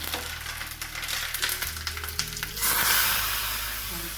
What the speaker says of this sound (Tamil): கடுகு போட்டிருக்கேன். கொஞ்சம் பெருங்காயம் போட்டுடலாம். அதுக்கப்புறம் காஞ்ச மிளகாய், போட்டுட்டு